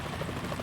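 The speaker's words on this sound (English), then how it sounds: "Is that a chopper I just heard?" Helicopter rotor chopping in the video game Metal Gear Solid 2, a dense, loud, steady beat heard alone for a brief moment.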